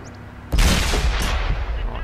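A tank cannon in World of Tanks fires once with a sudden loud blast, followed by a rumbling, decaying roar that fades over the next second and a half.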